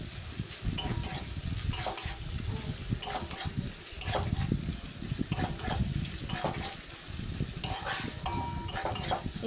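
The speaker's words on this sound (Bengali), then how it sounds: "এভাবেই টমেটো পেঁয়াজকে নেড়ে চেড়ে ভালো মতো করে একটু কষিয়ে নেব।" Tomato and onion stir-fried in a pan with salt while cooking mochar ghonto with chola, a spatula scraping and clinking in irregular strokes over a steady close sizzle.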